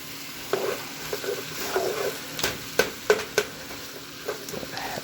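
Onions and chicken frying in a stir-fry pan give a soft sizzle, broken by scraping stirs and several sharp clinks of a utensil, fairly quiet and close, with no one talking.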